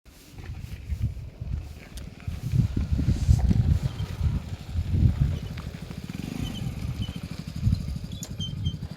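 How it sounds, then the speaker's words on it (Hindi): A motorcycle engine rumbles at a distance, low and uneven, swelling and fading over several seconds. "अभी बाइक की आवाज़ भी आ रही है।"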